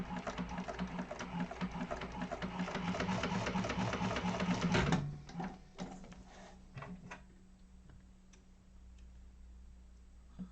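A sewing machine chain-stitches an organizer bag at a fast, even mechanical clatter for about five seconds, then slows and stops, leaving a low motor hum with a few scattered clicks, close and loud with no talking.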